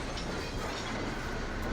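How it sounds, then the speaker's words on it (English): A model coal train runs along a railroad layout, a steady rolling rumble with faint track clatter, continuous and fairly close with no talking. "So the engineer is going to bring the train to a stop at the west end of the siding"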